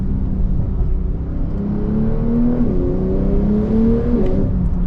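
Twin-turbo engine of a Porsche 992 Turbo S pulling hard from inside the cabin, a steady loud drone whose pitch climbs through the gears with brief dips at shifts.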